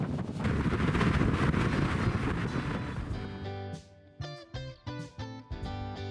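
Gusty wind buffets the microphone aboard a boat crossing the breezy Rosario Strait, a loud rushing roar that gives way to choppy, intermittent gusts.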